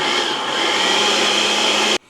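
A blender whirs steadily, loud and close, as it blends a marinade of black pepper, cumin and ground ginger for goat birria, then cuts off abruptly.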